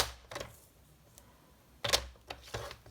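Scissors cutting a sheet of decorative paper printed with fir trees for a scrapbooking December Daily album, heard as a few quick, close snips and paper rustles, then a louder cut near the end, with no talking.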